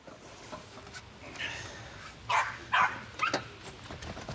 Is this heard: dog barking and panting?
yes